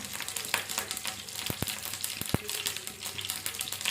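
Mustard seeds, coriander and curry leaves crackle and sizzle in hot oil for a brinjal dish, with a dense close frying hiss and a few sharp pops and taps, no talk.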